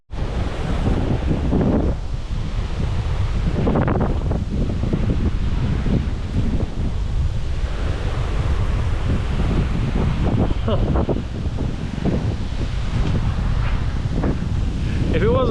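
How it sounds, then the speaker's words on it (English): Strong wind roars across the microphone in constant buffeting gusts outdoors on a cycling route along canals and gravel in Spain, with a faint voice briefly audible beneath the rushing noise. "it's getting windy"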